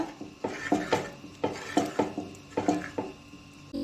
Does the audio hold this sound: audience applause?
no